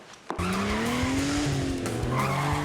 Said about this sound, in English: we're doing a car chase apparently